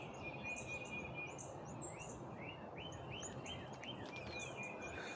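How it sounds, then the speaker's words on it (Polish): Birds sing in the morning, with repeated chirps and short whistled phrases at moderate distance, heard faintly over a steady wash of background noise and a continuous insect-like hum. "Nagrywam tylko wam śpiew ptaszków moich kochanych"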